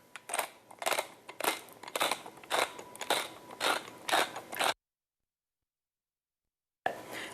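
Salt and pepper are ground into a dish in a close, rhythmic run of crunchy grinder twists, which stop suddenly before a short return.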